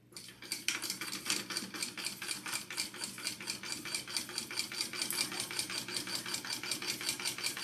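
A sewing machine stitching a 3/8 inch seam on a fabric sling, fast even rattling needle strokes in a steady rhythm running nearly the whole time over a low motor hum, fairly quiet and close, with no talk.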